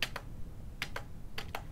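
Quick clusters of sharp keyboard key clicks come in small bursts of two or three, fairly quiet and close, over a steady low hum during a Kerbal Space Program gaming session, with no talk.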